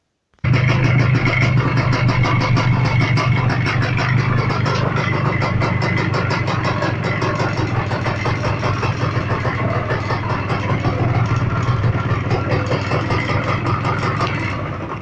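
A Minsk 125 motorcycle engine, fresh from a piston replacement, idles steadily after being started, with a continuous putter and no spoken voices throughout.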